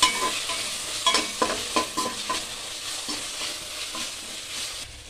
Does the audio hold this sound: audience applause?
no